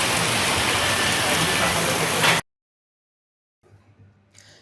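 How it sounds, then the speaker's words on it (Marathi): Heavy stormy downpour, a dense loud roar of rain for about two seconds before an abrupt cut to silence, followed by faint low rumbling and a brief hiss near the end. "वादळी आणि मुसळधार पावसाने जवळपास 45 मिनिट जोरदार हजेरी लावली."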